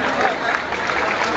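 Sustained applause from an audience at a school backpack and supplies handout event, a dense steady wash of clapping without pause, fairly loud and even throughout, with no clear voices standing out.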